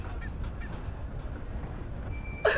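A person's voice imitates a goose with one short, nasal honk right at the end, after a stretch of low room noise.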